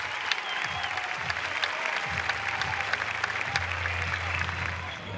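An overflow crowd of over 4,000 at a college baseball super regional game applauds a pitcher leaving during a pitching change, steady clapping and light cheering sustained for several seconds.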